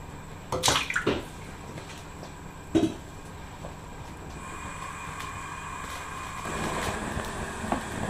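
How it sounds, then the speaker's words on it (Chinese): Cold water is poured into a pot over washed lamb bones for soup. A couple of sharp clanks come first, then a soft, continuous splashing stream builds toward the end. "先给洗干净的羊骨头放冷水"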